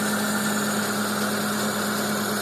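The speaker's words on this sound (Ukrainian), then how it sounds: "двигуна не ковбасить, працює рівно, тихенько, без проблем" A 2008 Renault Grand Scenic 2 with a 1.6 petrol/LPG engine idles smoothly and evenly, a steady close hum with a constant tone and no pauses or voices.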